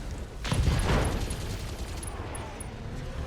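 Turrets open fire in the BattleTech mech combat game, a dense burst of booming shots swelling early then trailing into scattered impacts and rumble, fairly loud and with no talk over it.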